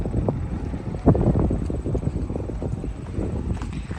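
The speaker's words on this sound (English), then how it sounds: "Nice and windy" Wind gusts across an open farm where calves are being weaned, a steady low rumble buffeting the microphone with uneven bumps and thuds throughout.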